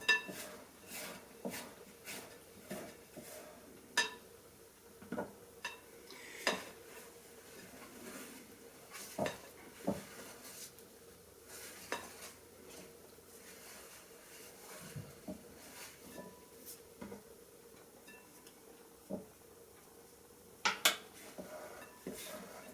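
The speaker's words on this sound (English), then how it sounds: "it's time to scrape it off the side." Pizza dough being scraped off the inside of a glass with a utensil, producing quiet intermittent clinks and scrapes, scattered taps against the glass amid soft rustling.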